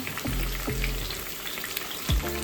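Vegetables fry for chow mein, giving a continuous close sizzle with a few low knocks and scrapes of a utensil against the pan.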